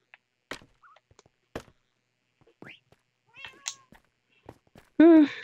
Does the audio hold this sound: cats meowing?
yes